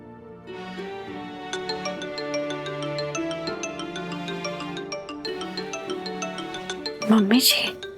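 A phone ringtone plays a bright, repeating melodic chime late at night inside a family home, steady and fairly loud for several seconds before a brief vocal exclamation cuts in at the end.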